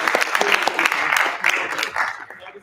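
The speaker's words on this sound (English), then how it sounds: "Give me a round of applause." Audience applause at a live comedy game show. Dense, steady clapping runs for a couple of seconds and then thins and fades out at the end.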